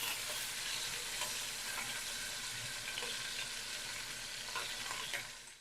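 Top sirloin cut into small squares browning in a pan for a soup, a steady broadband sizzle with faint stirring clicks, close and continuous with no talking.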